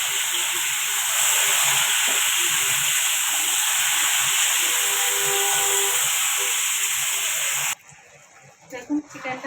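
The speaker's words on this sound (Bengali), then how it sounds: "এবার আমি মশলা মাখা চিকেনটা এই যে আমি দিয়ে দিচ্ছি" Spice-marinated chicken dropped into hot oil over fried onions gives a loud, steady broad hiss of sizzling that runs unbroken for most of the time, then cuts off abruptly and leaves a few quieter clatters.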